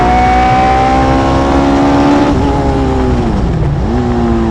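Hayabusa-engined Westfield car lapping a track, its loud high-revving engine droning steadily close by, the pitch climbing and then dipping as it brakes and shifts gears, with no speech over it.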